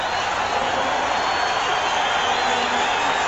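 A large football stadium crowd at a 1992 Eagles vs Cardinals NFL game roars in a dense, loud, continuous wall of noise without a break.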